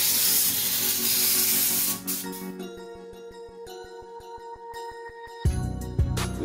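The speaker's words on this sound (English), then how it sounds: "Now I'm going to apply my cleaning agent" A cleaning agent is sprayed onto a non-stick pan in a steady hiss for about two seconds, followed by quieter tinkling and tapping, then a few louder knocks near the end.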